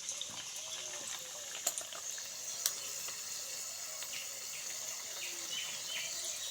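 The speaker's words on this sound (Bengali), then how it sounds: "তো তেল গরম হয়ে আসছে, এক এক করে আমি এরকম করে সবগুলো হচ্ছে মানে দুটো দুটো করে আমি ভেজে নেব।" Wheat-flour (atta) biscuits fry two at a time in hot oil on a stovetop with a soft, continuous hiss, quiet and steady, broken by a couple of small clicks.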